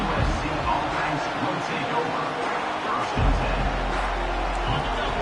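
A football stadium crowd keeps up a dense, steady roar of cheering throughout, with a commentator talking over it.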